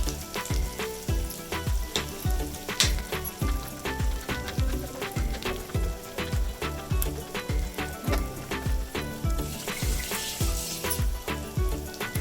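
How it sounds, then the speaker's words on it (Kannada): Onions fry in a pan toward light brown for an avarekai palya, giving a steady crackling sizzle with regular rhythmic scraping strokes of stirring throughout, close and moderately loud. "ಈರುಳ್ಳಿ ಸ್ವಲ್ಪ ಲೈಟ್ ಬ್ರೌನ್ ಕಲರ್ ಬರೋವರೆಗೂ ಅದನ್ನ ಮಾಗಿಸ್ಕೊಳ್ಳೋಣ"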